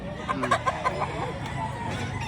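Chickens cluck at a poultry market in Lipa, Batangas, with short repeated calls over a steady crowd murmur while someone talks continuously nearby.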